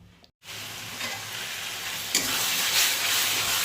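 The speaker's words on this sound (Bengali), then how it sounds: "ভালো করে মশলাটাকে কষিয়ে নেব এবার" Masala spice paste frying in a pan for egg curry, a dense close sizzle that starts after a brief gap and grows louder partway through, crackling steadily with no voices.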